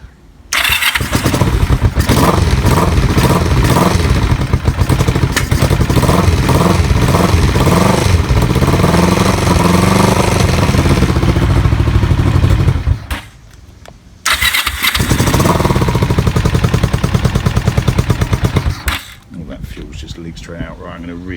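A Kawasaki EN450 bobber motorcycle, choked after sitting unused for a while, cranks and catches, then runs loud and close with repeated revving; it drops out briefly and restarts before settling to a quieter idle.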